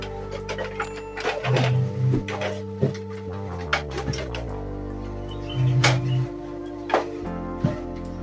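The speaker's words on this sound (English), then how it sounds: "So I'm going to tilt" An HP M177 laser printer being tilted forward to free a stuck cartridge, giving close plastic clunks, knocks and rattles with a steady mechanical hum and a couple of short buzzing tones.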